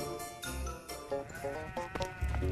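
Sheep bleat in short repeated calls on a sheep hill, close and fairly loud, with several overlapping cries and some rustling between them.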